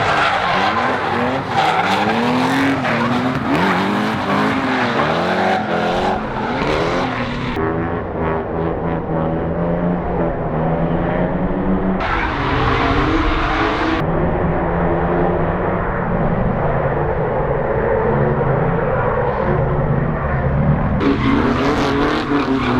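Drift car doing a burnout, engine roaring loud and close with sustained tyre squeal and screeching that rises and shifts throughout, no talk.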